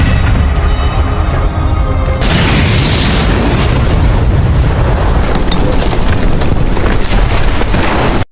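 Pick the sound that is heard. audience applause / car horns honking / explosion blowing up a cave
explosion blowing up a cave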